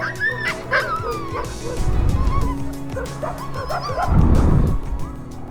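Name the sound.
dog or puppy whimpering and yipping while playing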